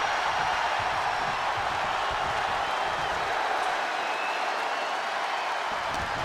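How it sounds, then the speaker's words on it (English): Dense, steady crowd roar fills a wrestling arena in WWE 2K25 for an Undertaker versus Bray Wyatt match, a loud continuous wash of noise with no breaks. "The roar of this crowd has been building, and they are at a fever pitch right now."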